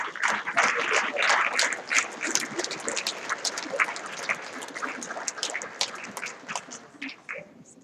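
Audience applause at a high school athletic awards night, a dense patter of clapping that stays steady and fairly loud for several seconds before thinning out near the end.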